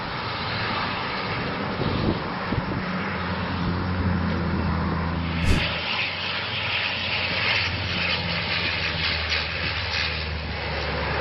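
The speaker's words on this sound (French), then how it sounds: "Cet avion de lutte anti-incendie est en train d'éteindre un feu de forêt en Croatie" A firefighting airplane flies low over a forest fire in Croatia, its engine roar loud and sustained throughout, with a steady drone and a brief sharp spike midway.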